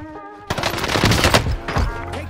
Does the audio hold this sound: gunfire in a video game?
yes